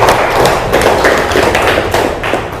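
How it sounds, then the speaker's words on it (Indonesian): Students in a classroom applaud together, a loud, sustained patter of many hands clapping close by with no talking over it. "Tepuk tangan dong."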